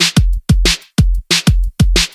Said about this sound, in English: For the drum section I just used standard sounds from FL Studio.